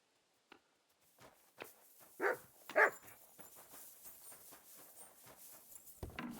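A dog in Kingdom Come: Deliverance 2 gives a few close, sharp barks spaced among soft thuds and light clip-clop footsteps, then faint rustling carries on at a low level.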